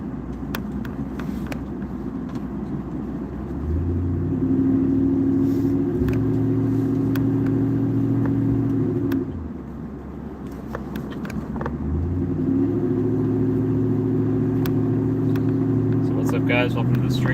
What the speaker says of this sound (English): Right now we're just driving back.